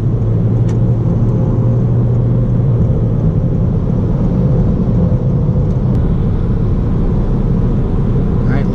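2019 Toyota Corolla Hatchback XSE on the move, with a steady low road and engine rumble that is loud and continuous throughout while a person talks over it.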